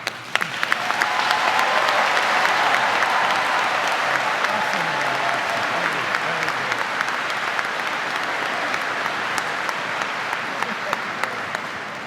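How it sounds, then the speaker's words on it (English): A college convocation audience gives steady applause after the address, a dense, even wash of clapping that holds for several seconds at a moderate level without talk. "Let's give our speaker another round of applause for being with us."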